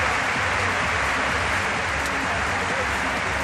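Dense, continuous crowd applause in an arena after a parallel bars routine at the European Artistic Gymnastics Championships, loud and steady throughout with broadcast commentary talking over it.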